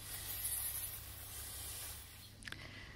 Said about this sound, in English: so I use the watering wand here again